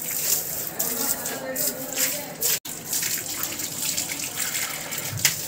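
Water runs steadily from the tap of a rooftop water tank during the first rain of the year, a broad continuous gush heard close by with voices talking over it.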